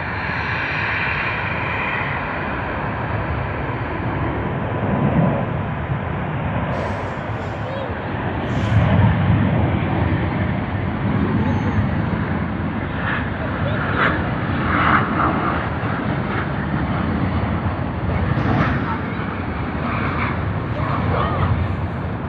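An aircraft at Sydney Airport gives off a continuous broad engine roar, steady and fairly loud throughout, with a few faint higher tones and a person talking over it.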